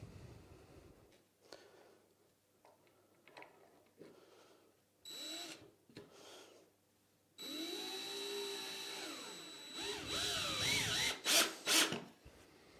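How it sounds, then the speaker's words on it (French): A power screwdriver drives screws into wood with a wolfcraft pocket-hole kit, a few short motor whines rising in pitch followed by a longer sustained drive and a final burst of whirring, with quiet handling noises between. "Et on vient visser."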